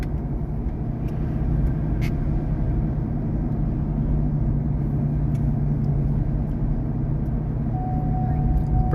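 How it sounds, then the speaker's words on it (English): A 1971 Chevrolet El Camino cruising down the road, heard as a continuous low engine and road rumble at steady volume from inside or close behind, with no voices. "Well, Camino looks pretty good going down the road."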